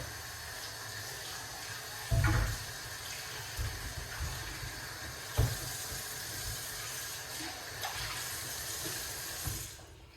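Running tap water flows steadily over something being rinsed in a sink, with a few louder splashes and gushes as hands move under the stream, close and alone without talk.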